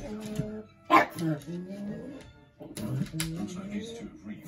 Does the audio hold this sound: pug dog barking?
yes